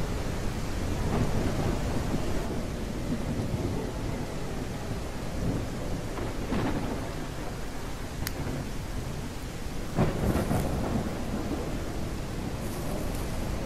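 Heavy thunderstorm rain pours down continuously in a horror video game, with rolling thunder rumbling beneath the dense hiss of the downpour.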